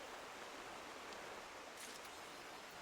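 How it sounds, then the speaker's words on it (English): Steady rushing roar of a waterfall in Final Fantasy XIV: A Realm Reborn, a dense broadband wash that holds constant throughout with no pauses or talk. "let's get away from this waterfall."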